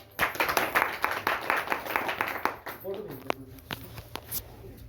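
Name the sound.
audience clapping at a meeting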